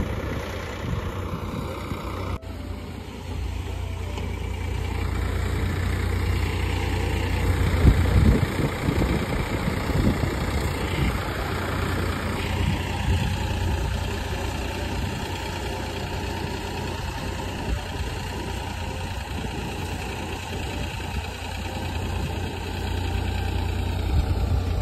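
A tractor engine idles steadily on an Assamese village farm, a continuous low rumble with vibration that holds at an even, fairly loud level throughout, with no talk over it.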